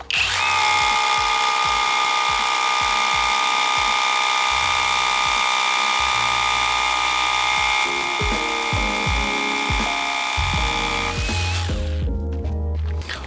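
A cordless rotary hammer drills continuously at close range with a 12–14 mm bit, a loud whining buzz with rapid hammering pulses that shift in pitch toward the end.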